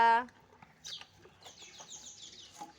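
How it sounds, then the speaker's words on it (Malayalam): Chickens cluck softly and intermittently close by as they peck at leftover rice and grains, with a brief voice at the start. "ചോറും ധാന്യങ്ങളെല്ലാം ഞാൻ ഈ കോഴികൾക്ക് ഇട്ട് കൊടുക്കാറുണ്ട്"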